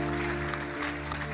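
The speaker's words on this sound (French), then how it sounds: "Et que son peuple applaudisse." A church congregation claps together in a dense, even wash of applause over sustained instrumental chords during a worship service, loud and continuous throughout the brief moment.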